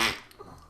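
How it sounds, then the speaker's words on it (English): A short, loud fart sound effect that bursts out and quickly fades, followed by a faint tail, heard alone with no talk. "That fart noise."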